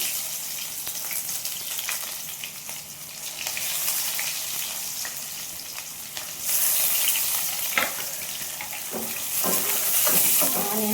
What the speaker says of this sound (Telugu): ఆయిల్ హీట్ వేసేసుకుంటున్నాను ఆవాలు చిక్కట్లాడాయి తరిగిన ఆనియన్స్ కూడా వేసుకుంటున్నాను